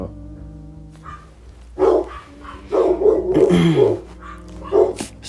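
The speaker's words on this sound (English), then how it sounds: "it's like my dog's gonna bark" A dog barks in several separate bursts with short pauses between them, fairly close and clear, over a quiet hum in the background.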